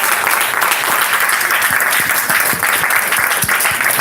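A church congregation claps loudly and steadily, a dense crowd of hands with sharp individual claps standing out near the front, no voices over it.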